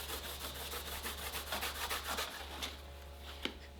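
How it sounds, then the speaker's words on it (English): A reddish Scotch-Brite pad rubs metal guitar hardware to a brushed finish, a quiet run of rhythmic back-and-forth scrubbing strokes over a low steady hum. "To achieve a brushed finish, I'm using this reddish Scotch-Brite pad."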